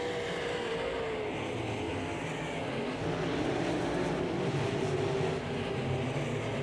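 IMCA modified race cars lapping a speedway during a heat race, a steady distant roar of several engines blending together, with a car note rising as it passes.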